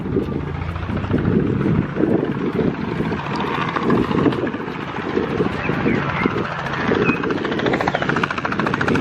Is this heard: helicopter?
yes